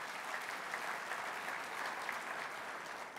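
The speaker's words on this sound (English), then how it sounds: "So I think it's appropriate, yeah, go ahead and applaud," Audience applause during a mayor's State of the City address, a steady wash of many hands clapping at a distance, even and sustained with no voices over it.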